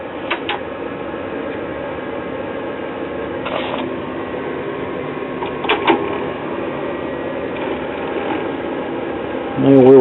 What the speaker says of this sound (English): We're rotating, have a noisy drive mechanism, is to be expected.